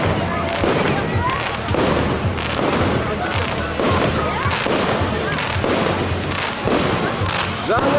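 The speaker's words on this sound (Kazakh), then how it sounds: "Шетке атсашы бұл салютты." New Year fireworks burst repeatedly close by, with loud overlapping booms and crackles in an irregular rhythm that never lets up, while voices are heard faintly underneath.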